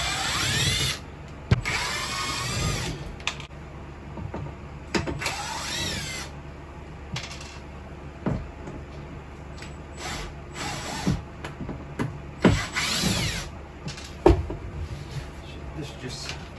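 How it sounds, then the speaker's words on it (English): A power driver backing Torx screws out of black plastic molding inside a forward locker on a Lagoon 450 catamaran, with several short whirring bursts separated by pauses, close and fairly loud, and someone talking between them. "You just got to remove 1, 2, 3, 4, 5 screws."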